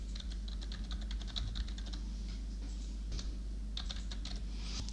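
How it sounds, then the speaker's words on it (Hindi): Steady typing on a computer keyboard as an email address is entered, with quick bursts of close, crisp key clicks separated by short pauses over a low constant hum. "सो यहाँ पे हम टाइप कर देते हैं ईमेल एड्रेस।"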